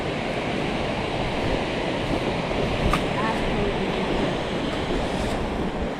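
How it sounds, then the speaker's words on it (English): Laurel Fork Falls in Tennessee, a waterfall roaring in a loud, constant broadband rush of falling water, steady throughout with no break. "Look at these waterfalls."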